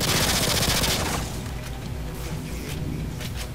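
G18 machine pistol from Modern Warfare 2 Spec Ops firing a rapid, dense full-auto burst for about a second, loud and close, then trailing into scattered softer shots and echoing battle noise.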